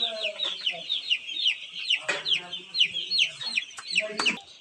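Chickens and chicks cluck and cheep continuously on a poultry farm, a dense chorus of busy high chirps with a few louder calls standing out close by.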